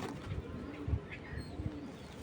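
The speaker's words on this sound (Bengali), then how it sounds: "তো আমি ছেড়ে দেখাই কবুতর দুইটা" Dobas pigeons coo softly in a few low, rhythmic pulses, faint and nearby, just after being let loose.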